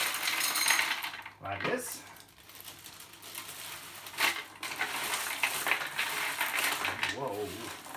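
Coarse sand mixed into a glass full of river pebbles, gritty scraping and clinking of stones against glass in uneven bursts, with someone talking over it.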